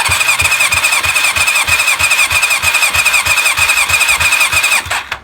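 A Kawasaki ZL600 Eliminator motorcycle cranks over on its starter during a compression check with the exhaust held open, giving a steady loud whine with evenly pulsing chugs that stops abruptly near the end.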